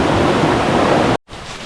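River water rushes steadily through a section of a Costa Rican river, a dense, close, loud broadband wash that cuts out abruptly and then returns somewhat softer.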